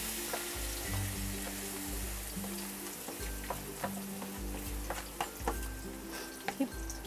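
Homemade ghee melts in a pan over low heat with a soft, continuous sizzle. Faint scrapes and taps come in toward the end, over a low tonal background.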